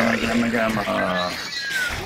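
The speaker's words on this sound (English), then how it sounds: "Yeah, that's my cat." A house cat meows in a drawn-out, wavering cry heard under a man's speech.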